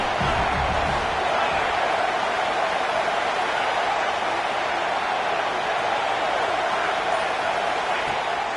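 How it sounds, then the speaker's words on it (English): A dense, roaring football stadium crowd swells behind the home defense on third down at a Ducks versus Trojans game, loud and sustained throughout with no breaks. "Decibels rising as the crowd gets behind this defense on third down."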